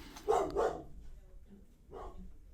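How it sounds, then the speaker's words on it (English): A pet dog indoors gives two quick barks close together, then a single bark after a short pause, fairly near but not loud. "I wonder what my dog is barking about."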